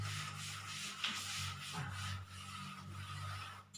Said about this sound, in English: Okay, I'm just going to rub it out here.